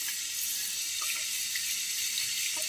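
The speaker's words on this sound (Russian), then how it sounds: "И идет у нас просто холодная вода." Cold water runs from an electric instant water-heater tap in cold mode, a steady hissing, splashing stream at moderate level throughout with no talk.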